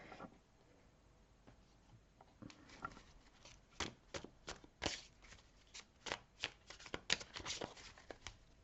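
A deck of Rider-Waite tarot cards is shuffled by hand, starting soft and quiet, then turning into a run of sharp riffling snaps and flutters that grows busier toward the end, fairly faint and with no voice.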